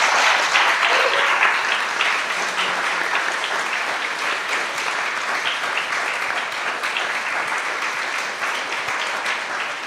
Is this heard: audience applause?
yes